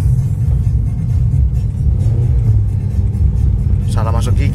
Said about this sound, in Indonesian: Salah masuk gigi saya. Saya masukin ke satu malah. Makanya ngeng gitu.